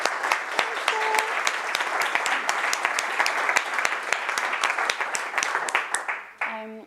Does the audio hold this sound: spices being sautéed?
no